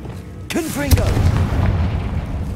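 A Confringo explosive spell cast in the video game Hogwarts Legacy lands as a sudden blast, followed by a deep rumbling boom that lingers for about two seconds.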